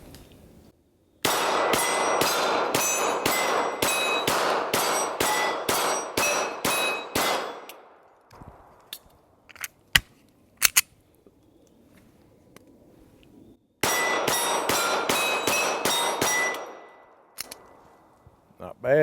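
Springfield Hellcat .380 pistol fired at steel targets at a range: two rapid strings of about a dozen sharp shots each with ringing metallic clangs, separated by a quiet reload pause with a few isolated clicks and knocks.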